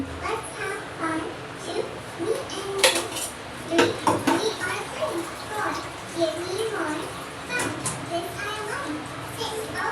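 Chicken pakoda batter is mixed with a little water in a bowl, giving uneven clinks and scraping knocks. People talk nearby throughout.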